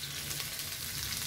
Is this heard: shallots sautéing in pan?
yes